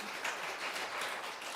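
Congregation applause for the tech team at a church service, a brief, soft, steady patter of many hands clapping, heard alone at a moderate distance.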